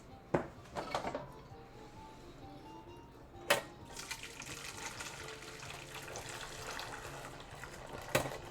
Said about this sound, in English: just pour the ice cream base into the